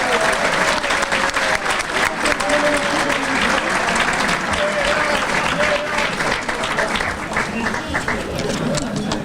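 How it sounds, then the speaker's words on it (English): Loud, dense audience applause greets the Bristol Sports Hall of Fame inductees at the 2018 ceremony, a sustained roar of clapping with crowd voices and cheers mixed in throughout. "Let's have a round of applause for our Hall of Fame."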